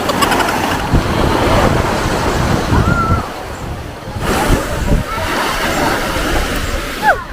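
Strong seaside wind buffeting the microphone over rushing surf, loud gusts that ease briefly midway before picking up again.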